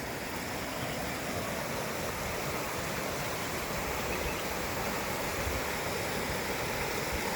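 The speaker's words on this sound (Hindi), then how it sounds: "ठाठे मारता हुआ पानी है।" Flood water rushing after rain, a constant dense roar of churning water, loud and unbroken throughout.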